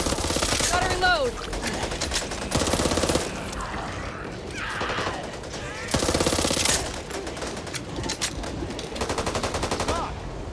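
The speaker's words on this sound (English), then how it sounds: "Why are you shooting at me?" Bursts of automatic gunfire from the video game Back 4 Blood, rapid loud volleys in several clusters, with voices calling out between and under the shots.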